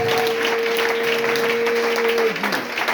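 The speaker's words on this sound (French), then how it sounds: "Donc tu peux l'acclamer." A church congregation breaks into steady, sustained applause, with a faint held tone running underneath.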